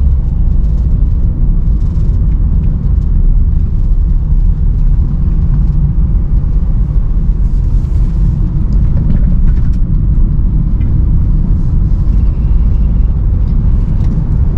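A 2010 Honda Jazz RS automatic, GE8 model, cruises on the road with a steady low engine and road-noise rumble heard from inside the cabin, continuous and even for the whole stretch with no talk.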